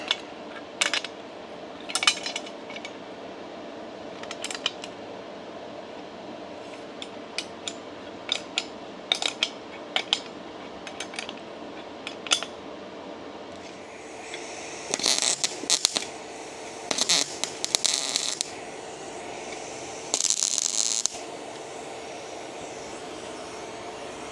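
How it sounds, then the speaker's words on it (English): Nuts being screwed down with a holding tool on the hood of a Freightliner Classic truck, with sparse metallic clicks and taps at first, then louder bursts of scraping and ratcheting against a steady background hum. "All this does is hold the nuts so you can just screw it down."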